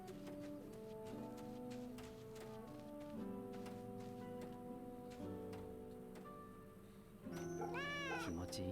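A cat meowing in a video game, a couple of rising, wavering meows near the end over a quiet looping game music bed, with no voice heard.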